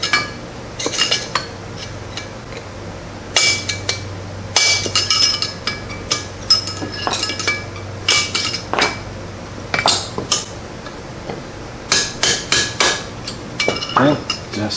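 On a 2005 Suzuki Eiger front hub, a spacer bushing is hammered with sharp metallic strikes, some in quick clusters and some spaced apart. The blows are close and loud over a low background hum.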